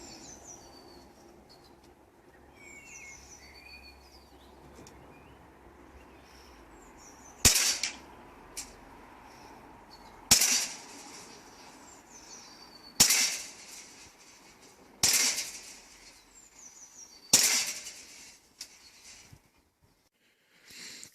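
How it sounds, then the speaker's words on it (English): Five sharp, evenly spaced pistol shots from a Cybergun Sig Sauer P226 X5 CO2 4.5mm air pistol, fired from a rested kneeling position outdoors, each a loud crack with a short tail, while birds chirp faintly in the background. "I'm shooting now from a kneeling position with the pistol on rest"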